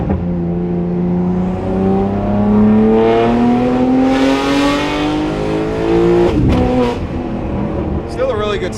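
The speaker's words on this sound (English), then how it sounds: "But whipping some downshifts here." A BMW G8x M3 with the S58 engine and a Valvetronic Designs HFD midpipe exhaust, roaring loud and close through a rising run before sharp downshifts bring blips and crackles.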